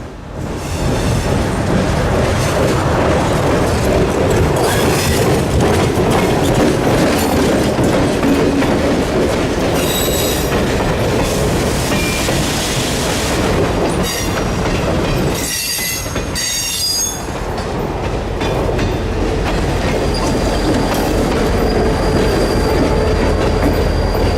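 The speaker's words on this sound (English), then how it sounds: "the loud flat makes up for the quiet horn, as the train was still audible" A slow Orlando and Northwestern train rumbles past at close range, a wheel flat clattering in a steady rhythmic thump with occasional metallic squeals over the roar.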